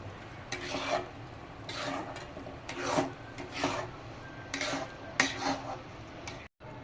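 Raw potato mixture being stirred and sautéed in a pan for a breakfast dish, repeated rasping scrapes of a spoon against the pan in uneven strokes, close and fairly loud with no talk.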